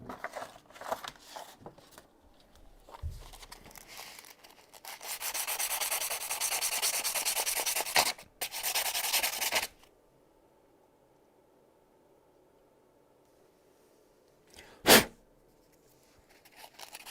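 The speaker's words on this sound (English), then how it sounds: "I need to shave off a little bit of this here. I will take a different file for that, or sandpaper." A file or sandpaper shaving down a piece, with raspy rubbing strokes that build into steady, loud sanding for several seconds, then stop. A single sharp scrape follows after a quiet pause.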